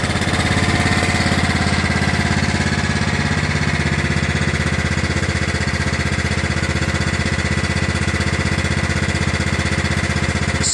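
John Deere LA105 lawn tractor engine at low idle, a loud, steady, rapid chugging putter heard up close, even and unbroken for the whole stretch with no talking.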